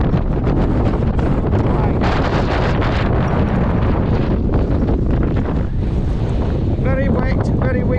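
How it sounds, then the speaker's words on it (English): Strong wind buffeting the microphone on the wet summit of Beinn Sgulaird, a Scottish Munro, a loud continuous roaring rush with gusting surges and no voices. "Very wet, very windy, Beinn Sgulaird."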